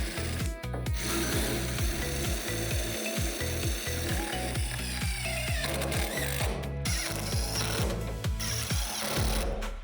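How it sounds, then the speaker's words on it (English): A power driver sinks self-tapping screws through metal to fix a center frame pad onto a Lifetime 54-inch NBA Strong Arm basketball backboard, a loud steady whirring with regular rhythmic pulses and brief pauses between screws. "Attach the center frame pad to the backboard and secure with the self-tapping screws"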